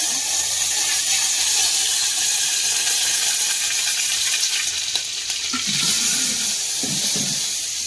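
Mustard seeds and curry leaves sizzle in hot oil for a drumstick curry, a loud, close, continuous hiss with scattered crackles and a brief burst of spattering near the end.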